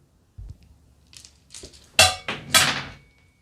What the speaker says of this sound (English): that was the sound of me dropping the dice